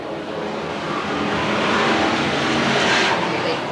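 Race cars roar around Willamette Speedway in 1991, a dense loud engine drone that swells as the pack passes, with a faint voice underneath.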